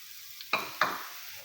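Onion frying with mutton in a pan for mutton karela curry, quiet sizzling with two sharp stirring scrapes close by and no talking.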